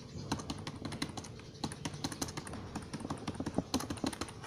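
Typing on a Razer Deathstalker Essential chiclet membrane keyboard: a steady patter of soft, muted key taps in quick irregular bursts, close up and fairly quiet, with no speech.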